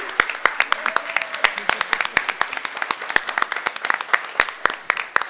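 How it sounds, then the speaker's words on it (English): An audience at a school board meeting applauds steadily, a dense patter of many hands clapping close by for several seconds, with no talking over it. "we always love to applaud family members"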